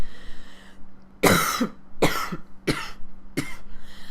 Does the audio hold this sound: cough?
yes